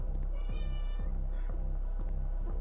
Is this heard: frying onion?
no